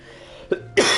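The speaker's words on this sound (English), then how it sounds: "I don't know what's going on with the cough." Two short, close coughs from a person with a cough that started a few hours ago, with a small one first and a harsher, louder one after.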